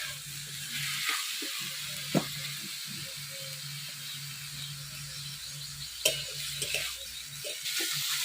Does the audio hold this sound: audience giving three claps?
no